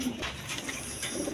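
Giribaz high-flying pigeons coo in short, soft, low throaty bursts at the start and end, close by, with faint chirps in between.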